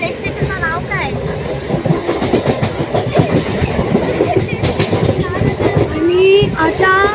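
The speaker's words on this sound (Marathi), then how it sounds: "आपली ट्रेन टर्न होते आणि ते पॅसेंजर बसलेत" A passenger train rolls and turns along the track, rumbling loudly with rhythmic wheel clatter and occasional high squeals, while people talk nearby over the noise.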